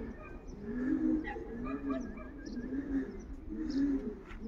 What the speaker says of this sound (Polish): O, widać gołąbka jak siada. Widać gołąbka jak siada. Także słychać.